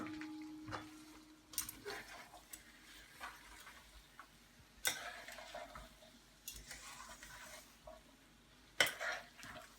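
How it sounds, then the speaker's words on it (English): Vegetables for a curry being stirred in a pan, with quiet scattered clinks and scrapes of a spoon against the pan over a faint low sizzle, a few sharper taps standing out. "Just pop them into your pan and give it a good old stir"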